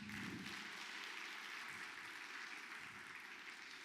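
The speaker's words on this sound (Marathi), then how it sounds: "एकदा मॅडमसाठी जोरदार टाळ्या." Audience applause fills the hall at an inauguration ceremony for a DNA centre in Dubai: a steady, dense wash of clapping held at a fairly even, faint level throughout, with no voices over it.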